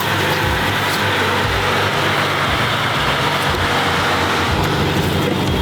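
A gated-manual V12 supercar on the move, its engine a steady, loud drone blended with broadband road and tyre roar from inside the cabin, continuous for several seconds with no talk.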